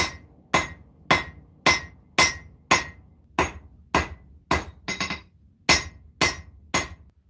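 A hammer strikes hot metal on an anvil about a dozen times while a knife blade is forged, each loud ringing blow evenly spaced about half a second apart, close and alone.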